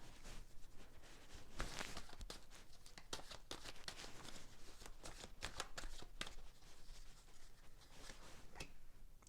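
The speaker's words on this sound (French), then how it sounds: "je vais battre les cartes" A deck of tarot-style cards being shuffled by hand, a continuous papery riffling and slapping that runs for several seconds, close and fairly quiet, with no voices.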